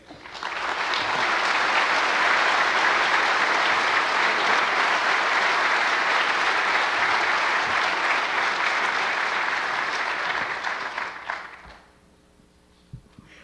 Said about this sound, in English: I'd like to have a round of applause for Philip Zimmermann.